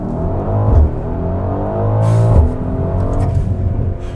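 A 2020 Mercedes-AMG GLC63 S twin-turbo V8 SUV launches from a race start: a loud, close engine roar rises through a couple of quick gear changes, with brief pauses between pulls and no talk.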